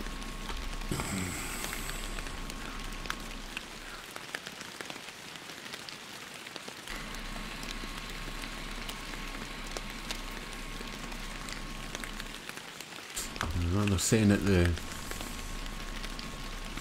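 Dense, relentless rain pours steadily on surfaces throughout in the fishing video game Fishing Planet at Falcon Lake, Oregon, with a voice briefly talking over it and a louder gush near the end.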